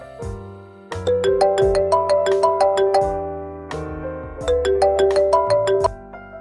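A melodic phone ringtone plays for an incoming call, a bright chiming tune of rapid repeating notes that loops twice, loud and clear with no talking.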